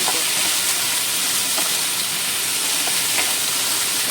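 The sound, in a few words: potatoes frying in a pan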